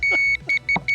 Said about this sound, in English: Oh, Johnny, Who is beeping their ass